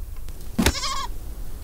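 A single wavering bleat from a goat in the adventure game Deponia Doomsday, short and clear over quiet background.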